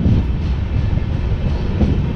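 A Konkan Railway Mandovi Express train runs near Kankavli, giving a steady, loud, close rumble of wheels and carriage noise throughout, with no talking.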